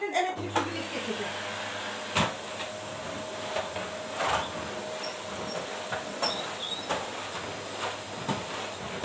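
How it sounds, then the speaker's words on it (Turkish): Steady broadband whir of a vacuum cleaner running continuously, with occasional bumps and knocks as it moves, fairly close and even in loudness. "Tekrar şöyle bir üzerinden elektrik süpürgesi geçeceğim."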